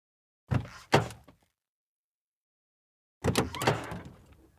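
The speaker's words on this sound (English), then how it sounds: "I've gotten a clip of a car door opening and designed 2 car door open sounds" A car door opening, heard as two versions: a quick pair of mechanical clunks and latch clicks, then after a pause a longer, fuller opening clunk with rattle.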